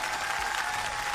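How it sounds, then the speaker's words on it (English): Audience applause for a child after answering what they want to be, a steady burst of clapping filling the short moment without speech. "can we clap for Aiden?"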